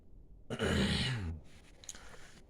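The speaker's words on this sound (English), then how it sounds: "Clear my throat on that one." A single rough, rasping throat clearing, loud and close, followed by quiet breathing and faint background noise.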